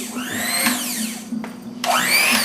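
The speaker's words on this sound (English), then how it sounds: "brought out the old hand mixer, and I'm going to whip it up so it's really a smooth texture" An electric hand mixer whips deviled egg filling, whirring steadily with a high motor whine, its pitch sliding up and down as it works, briefly dipping before revving back up.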